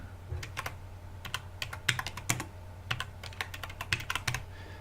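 Computer keyboard typing, a quick irregular run of crisp close keystrokes in bursts with short pauses, over a low background hum and no talking.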